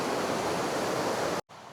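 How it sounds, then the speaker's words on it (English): Loud, steady roar of a rushing stream beside small bridges on the NC500 route in Scotland, a dense broadband wash that runs unbroken, then cuts out abruptly for a moment before returning slightly quieter. "I don't know if you can hear us over the roaring water behind us."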